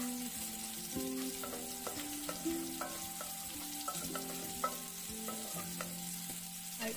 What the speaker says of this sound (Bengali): যথারীতি পেঁয়াজ কুচি আর একটা কাঁচা লঙ্কা যেটা আমি দিয়ে দিচ্ছি তেলের মধ্যে